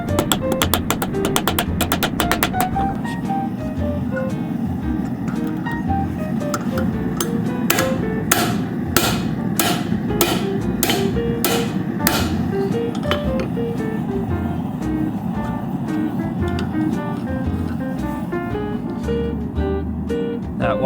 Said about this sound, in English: So what I'm gonna do is use my cross peen and try to force it back over in that direction.